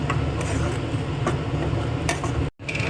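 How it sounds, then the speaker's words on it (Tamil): A spoon stirs food in a cooking pot during a Tamil home lunch preparation of tamarind curry and vegetables, giving soft repeated scraping and light clinks over a low sizzle, close and steady. "அதை போட்டு நல்லா இதை போட்டு நல்லா கொஞ்சம் கிளறும்"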